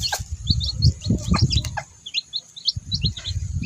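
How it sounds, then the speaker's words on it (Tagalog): Chickens and young chicks in a yard make a mix of low clucks and rapid high chirps, close by and fairly loud, with brief quieter gaps between bursts. "Makalingaw ang manok"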